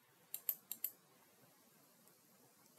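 A computer keyboard being typed on, with a quick run of four faint, crisp keystrokes followed by a lone click a couple of seconds later, in a quiet room with no voices.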